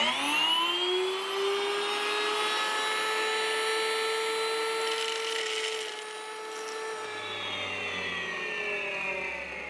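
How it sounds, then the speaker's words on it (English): An electric grain mill grinding corn, a loud, steady high-pitched motor whine with gritty grinding noise that stays strong throughout before dropping slightly in pitch near the end, close up and without talk. "let's go ahead and grind up some corn"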